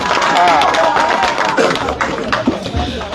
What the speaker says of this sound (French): Applaudissements pour son arrivée, s'il vous plaît.